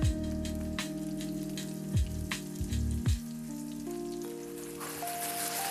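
Diced potato drops into a hot pan of oil with green chillies for sabudana khichdi, a steady soft sizzle and crackle with a few louder spits, close and quiet, no talking.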